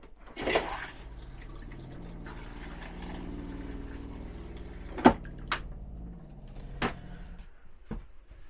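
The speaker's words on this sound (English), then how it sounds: "Go ahead and flush the toilet." Toilet in a 2026 Jayco Jay Flight 175BHW travel trailer flushes during dewinterizing, with a low rush of water, a few sharp clunks of the valve and scattered drips in a small, quiet bathroom.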